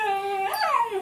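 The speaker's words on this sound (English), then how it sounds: "Sorry, that's my dog." A puppy whimpers and yips in a short, high, wavering whine that slides up and then down, fairly close and loud with no talking.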